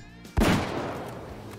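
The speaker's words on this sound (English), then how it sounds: "That was like the most booming sound we've had from any of the rifles in this game." A 9.3 hunting rifle fires in the hunting video game Way of the Hunter, a single loud booming shot followed by a long rumbling decay.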